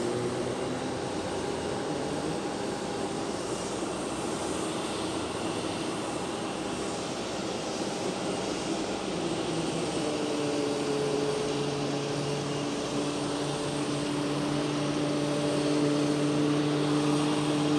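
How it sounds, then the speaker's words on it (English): A jet bridge extends to a parked plane at Geneva Airport under a steady, loud drone of aircraft engines and ground machinery, with a rising whine toward the end. "That's the noise of the jet bridge extending"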